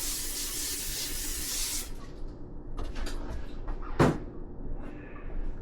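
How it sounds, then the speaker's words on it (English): A short burst of cooking spray hissing onto a baking tray in the first couple of seconds, fairly close, followed by quieter kitchen handling noises and a single clunk. "Then we'll take our cooking spray and we'll hit that surface."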